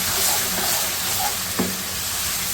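Kaleji (liver) frying in a pan with Kashmiri red chilli powder and spices, giving off a loud, steady sizzle with a brief clatter near the end and no talking.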